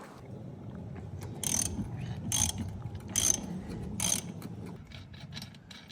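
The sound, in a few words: ratchet loosening 19mm nut on Cub Cadet mower front wheel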